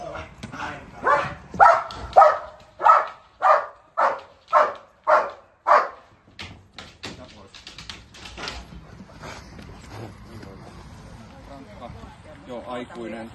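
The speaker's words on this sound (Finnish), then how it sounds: "aikuinen koira 6-vuotias, jolla on 10 treeniä tehty" An adult six-year-old dog barks about a dozen times in a steady, evenly spaced series, loud and close, then falls quiet while people talk softly nearby.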